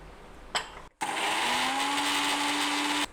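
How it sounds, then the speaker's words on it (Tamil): An electric mixer grinder starts with a short burst, stops, then runs loud and steady for about two seconds, grinding curry leaves and coconut with a strong whirring motor whine before cutting off. "இப்போ தேங்காய் இது எல்லாத்தையுமே இதில் போட்டு நல்லா அரைக்கணும்"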